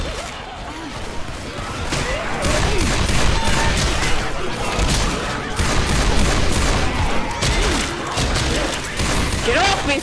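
Gunfire in the zombie shooter Left 4 Dead 2: dense, rapid bursts of close shots and clattering automatic fire, loud and continuous, mixed with crashes and impacts, and shouting voices underneath.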